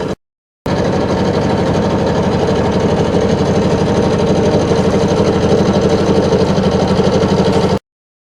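A Vega 27 sailboat's inboard engine motoring near Bear Haven, a steady mid-pitched diesel chug with a fast, even knocking rhythm, loud and close, running alone without pause for several seconds after a brief gap.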